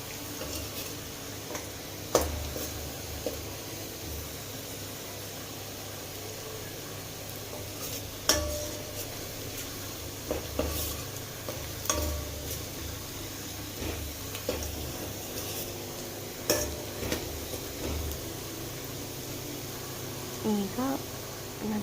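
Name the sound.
onions frying and being stirred in a pan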